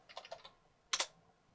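Keys tapped on a computer keyboard while entering a command at a Raspberry Pi login prompt: a short run of about five quick clicks, a pause, then one louder, sharper keystroke, close and alone in a quiet room.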